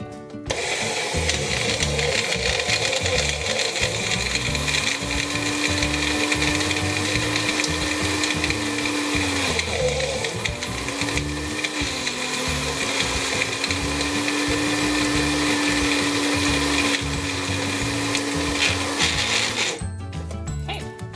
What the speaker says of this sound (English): This is easier if you're going to do it in a small blender like this.